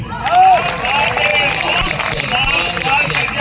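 Audience at a Hindi comedy poetry gathering (kavi sammelan) breaks into applause and cheering, a loud, continuous crowd sound with clapping and voices mixed together for the whole stretch.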